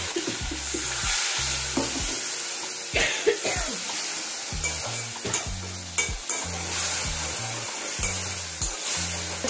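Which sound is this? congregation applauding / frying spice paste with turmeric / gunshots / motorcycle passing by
frying spice paste with turmeric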